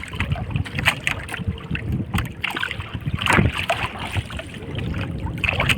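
Wooden paddle strokes pull a heavily loaded boat through windy water on the way home, with irregular splashes and dips close by, wind buffeting the microphone throughout, and a flowing, gurgling wash under the strokes.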